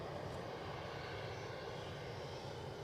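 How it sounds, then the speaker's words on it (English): An easyJet airliner lines up on the runway at Edinburgh Airport, its engines giving a faint, even hum in the distance, steady and unbroken with no voices. "easyJet lining itself up."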